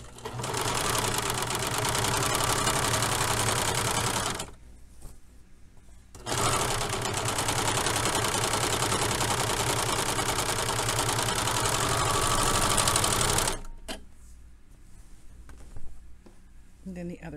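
A sewing machine stitching a lowered crotch seam runs in two long, loud bursts of rapid steady whirring, separated by a short pause, then stops with a few handling clicks at the end.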